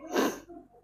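A single short, breathy cough bursts out close to the mic during a casual Among Us game session, then trails into quiet noise.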